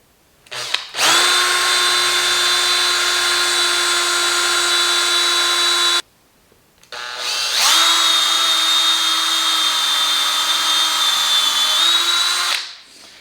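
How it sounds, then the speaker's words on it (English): A power drill whines steadily at high pitch for about five seconds drilling screw holes in oak, stops briefly, then runs again for another five seconds, loud and close. "I have marked 2 screw holes to drill."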